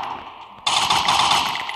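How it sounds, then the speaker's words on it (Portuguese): Rapid automatic gunfire in the mobile shooter Free Fire bursts in abruptly after a quiet moment, a dense rattling string of shots that runs loud to the end. "Dá mais um tiro nela."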